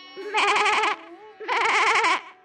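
Two drawn-out, wavering goat bleats in a Bengali cartoon, loud and close with a short pause between them, against a faint steady background tone and no speech.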